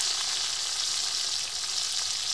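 Fish curry sizzles in hot oil in a kitchen pan, a steady bright crackle with no pauses and no talk over it.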